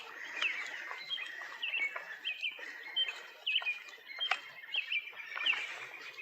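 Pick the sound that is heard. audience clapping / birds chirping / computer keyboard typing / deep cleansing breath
birds chirping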